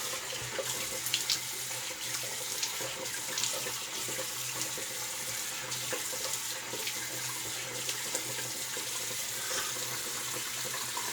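Water runs steadily from a tap, a continuous splashing hiss into a sink with faint clinks, no talking throughout.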